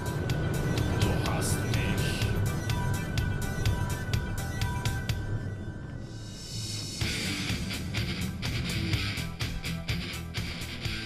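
A supercar accelerating hard past 100 km/h, a loud continuous engine roar with rising gear-shift tones and a brief dip midway, with a voice talking over it.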